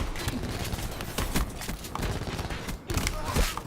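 Dragon's Breath shotgun rounds fired in Black Ops 4 multiplayer, a string of loud close blasts under dense game noise and a talking player, with a brief drop before more firing.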